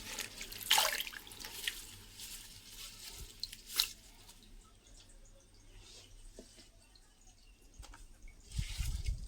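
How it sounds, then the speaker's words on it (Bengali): Household items are washed under a running tap, with intermittent splashes, drips and clattering handling against a faint background, a couple of sharp bursts and a louder gush of water at the end. "তো এগুলো সব এখন আমি ধুয়ে নিচ্ছি।"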